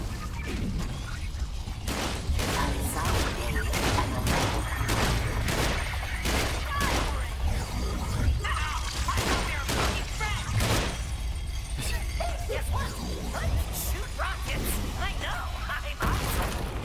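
Rockets fire over and over in the action game Sunset Overdrive, making rapid, punchy blasts in a steady rhythm throughout. A player talks over the barrage.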